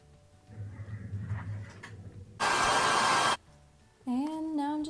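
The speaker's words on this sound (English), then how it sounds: "gonna blow dry my hair for a little bit because it's a mess" A hair dryer blows on hair for about a second, a loud steady whoosh that starts and stops abruptly between quieter household noises.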